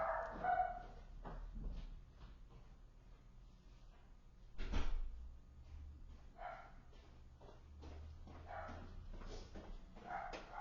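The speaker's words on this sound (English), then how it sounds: "the dog keeps thinking people are at the door, so I hope he doesn't keep barking" A dog barks and whimpers at a home's front door on a windy day, with faint, scattered yips and whines spread through the clip and one louder bark in the middle, all at low level.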